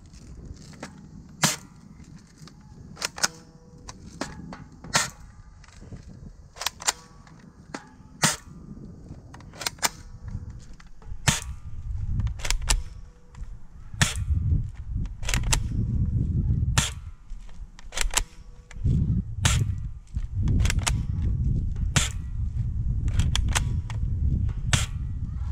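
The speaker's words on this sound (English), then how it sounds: "I'll shoot off a couple rounds just to give a little hint of what the gun sounds like" A Crosman M14 airsoft rifle fires about fourteen sharp, snappy shots at irregular intervals, some in quick pairs, loud and close, over a low rumbling background with no speech.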